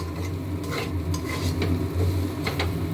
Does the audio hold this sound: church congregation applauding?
no